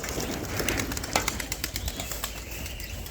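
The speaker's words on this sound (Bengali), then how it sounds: "তো পায়রাটা প্রথমে ওড়ানোর চেষ্টা করি।" Domestic trick pigeons are being urged to take off, giving bursts of close, fluttering wing flaps with soft rustling over outdoor background noise. No one speaks.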